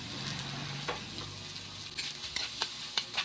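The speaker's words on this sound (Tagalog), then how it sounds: "Kaya gisahin na natin ang stock ng kangkong at saka isabay ang sweet corn." Kangkong stalks and sweet corn sautéing in a hot pan, a steady close sizzle with a spatula scraping and stirring in short repeated strokes.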